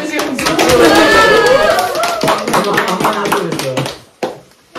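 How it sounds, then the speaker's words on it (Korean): A live audience at a spring semester presentation claps loudly together, mixed with cheering and chatter, before the applause tapers off and fades to a few scattered claps. "박수!"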